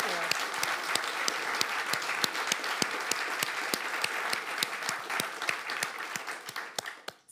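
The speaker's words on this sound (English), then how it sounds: "Big round of applause for Martha," A festival talk audience breaks into sustained applause, dense rapid clapping from many hands that holds steady for several seconds and then thins and fades out at the end.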